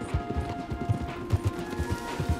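Video game horse hooves clop in a steady galloping rhythm, several beats per second, close by over a low background hum.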